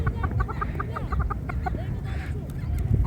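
A chukar partridge responds to a female's call with a run of rapid, repeated clucking calls, fairly close, with a breathy, rhythmic chuckle over faint background noise.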